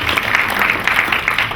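An audience at a storage technology talk gives a short burst of applause, dense and fairly loud, with clapping filling the whole moment.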